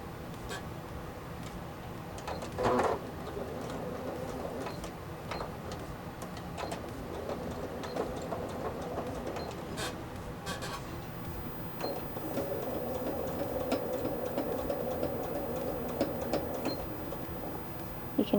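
A sewing machine runs steadily while stitching close to a seam to catch the seam allowance on a McCall's M8091 garment facing. It gives a continuous, close mechanical whir with light ticking and no talking.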